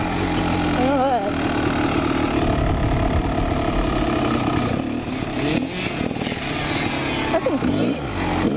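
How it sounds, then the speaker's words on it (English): Honda CR two-stroke dirt bike engine revving and burbling during a wheelie attempt, loud and close throughout, with people talking over it. "I was trying to do a wheelie on my bike."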